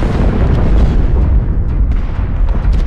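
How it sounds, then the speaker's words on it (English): Particle cannon fire in MechWarrior Online booms and crackles in a dense, loud rumble of heavy blasts with sharp bursts layered over a roaring low end. "These blue bolts flying, these are particle cannons."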